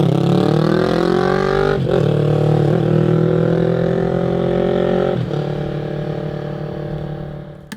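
A motorcycle engine rides along a road on a 46-degree Michigan day, with a loud, steady drone and harmonic whine that holds nearly constant, dipping briefly twice at gear shifts, no talk.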